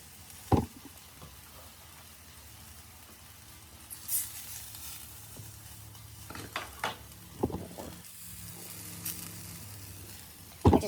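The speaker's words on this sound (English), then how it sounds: "I'm going to add the sauce now and cook it a little bit more." Shrimp and green beans sizzle in a hot pan with sauce, a steady frying hiss punctuated by occasional clinks and scrapes of a utensil against the pan.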